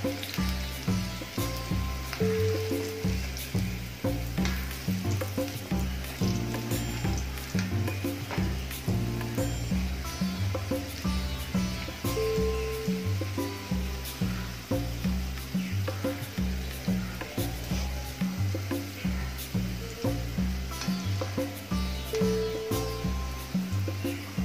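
Okra (bhindi) fries crisply in hot oil, giving a steady close sizzle under a pulsing background music track throughout.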